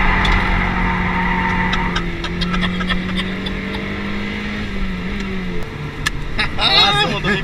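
A car drifting on track during a trackday at Zandvoort, engine droning and revving with shifting pitch and occasional tyre squeal, heard under people talking.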